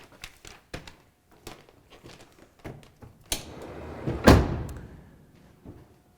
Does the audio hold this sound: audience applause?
no